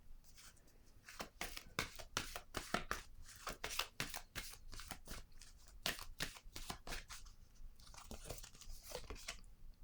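Tarot cards being shuffled and handled up close, with bursts of quick riffling, flicking and slapping that come in irregular clusters over about ten seconds, with no talking.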